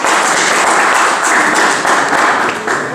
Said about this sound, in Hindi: गुरलक सिंह जी का जोरदार तालियां होनी चाहिए।